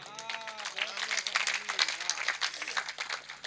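Audience clapping after a Hindi poetry recitation, scattered irregular claps rising through the hall while a voice carries on speaking over them.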